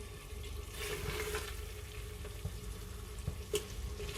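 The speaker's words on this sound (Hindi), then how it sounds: "यहाँ पर गोश्त को मैंने मज़ीद 5 मिनट तक भून लिया है, ये आप देख सकते हैं।" Mutton sizzles in a pan while being browned for a korma, a soft, steady frying hiss with a few faint clinks and stirring sounds, fairly quiet and without talk.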